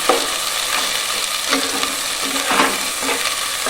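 Raw spices and chicken fry in a pan for chicken kasha, with a steady loud sizzle and periodic scraping strokes as the mixture is stirred.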